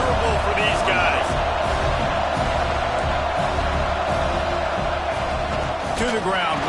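A stadium crowd in NCAA 25 football roars continuously in the background, loud and dense, while a commentator talks over it.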